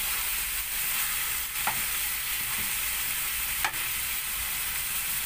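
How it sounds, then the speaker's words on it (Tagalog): Marinated chicken sautéing in a pan for empanada filling, giving a steady close sizzle throughout with a couple of brief stirring scrapes and no talking. "Then, igigisa ko na siya"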